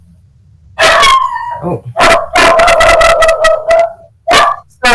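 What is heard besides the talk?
dog barking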